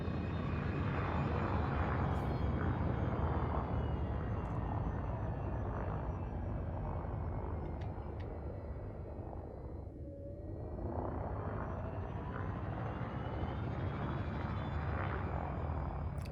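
In Elite: Dangerous, a spaceship docks at a station with its landing gear deployed, giving off a steady, loud engine roar and hum that dips briefly midway and then swells again, with no voices.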